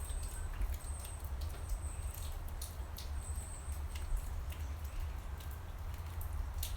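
Steady rain in Oregon, patter with sharp drips and taps scattered over a constant low rumble, no voices, even and continuous throughout.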